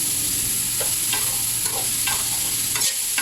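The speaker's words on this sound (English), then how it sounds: "Let's fry all of this for about 2 minutes." Vegetables sizzle and crackle steadily in a pan over a medium flame, with a few soft stirring scrapes breaking through the constant frying hiss.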